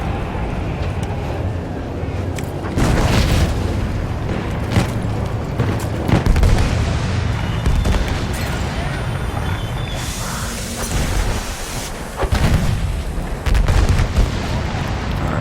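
Mortar explosions in the video game Battlefield 1: repeated heavy booms and blasts over constant battlefield rumble, loud and close, with a voice talking in between.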